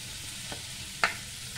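Onion pieces fry in a pan with a soft, steady sizzle, broken by a quick scrape or clink of a stirring spoon partway through, quiet and close with no voices.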